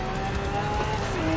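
A Ford GT roars steadily in Forza Horizon 4, a loud, continuous engine drone with a sustained tonal whine that shifts slightly in pitch, alone without voices.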